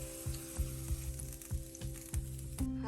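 Hot tadka tempering poured onto kadhi pakora sizzles loudly and steadily, with a few short clinks and stirring knocks repeating at a regular pace.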